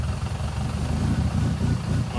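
A Mazda MX5 engine idles at around 1,000 RPM after a throttle body and MAF cleanup, giving a steady low, even rumble with slight vibration, close and moderately loud.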